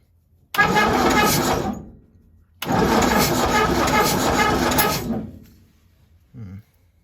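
A Triumph Roadster engine cranks in two long bursts from the starter, whirring and churning without catching. A brief faint sound follows after a short pause.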